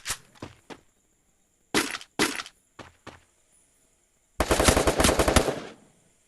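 Gunfire in a Free Fire battle royale match: several sharp single shots and short bursts with quiet gaps between, then a sustained rapid automatic burst lasting about a second, all loud and close.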